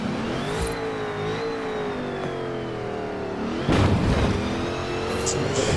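A Golf rally car in Forza Horizon 4 revs its engine, a sustained whine rising and easing in pitch, followed by a sudden louder burst of rough engine and road noise.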